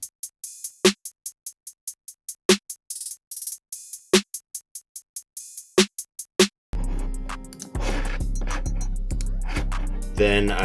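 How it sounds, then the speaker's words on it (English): An open hi-hat sample plays in a sparse hip-hop beat pattern alongside a snare hitting on the 3 and rolls, crisp repeated hat hits first on their own, then the full beat comes in loud with bass and drums. "Next up, I got this open hat sound."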